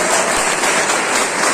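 A seminar crowd at a Happy Health India celebration in Raghogarh breaks into loud, sustained applause for Manoj sir, a dense wash of clapping at a steady level with no voices over it.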